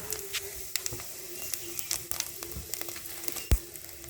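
Panch phoron and black cumin seeds crackle and sizzle in hot oil, a close continuous hiss with scattered sharp pops and one louder crack near the end, no talk.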